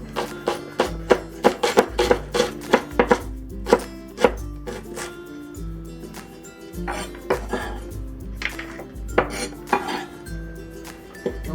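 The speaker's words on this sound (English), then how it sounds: "And next we'll cut the green onions." Rapid knife strokes chop green onions on a cutting board for a Shanghai vegetarian stir fry of rice cakes, with close, sharp, uneven bursts of taps and a few pauses between runs.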